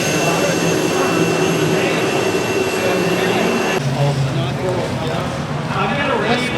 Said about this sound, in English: This Chrysler has a turbine plane engine in it.